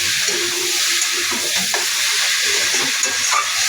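Masala for an egg and cauliflower curry sizzles and fries in a pan while being stirred, a steady close hiss broken by occasional scraping strokes, with no voices.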